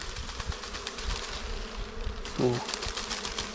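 A swarm of dwarf honey bees drones around their nest in a continuous, close, fluctuating buzz, with a person speaking briefly over it.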